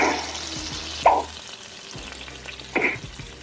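Salmon fillets frying in a pan, a soft continuous sizzle punctuated by two brief louder spits or movements of the fish, close and fairly quiet.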